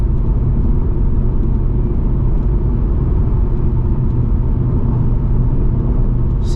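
A 2024 Ford Mustang GT with a manual gearbox accelerating hard in third gear, a loud, steady, dense engine roar filling the whole stretch, close and continuous with no talk.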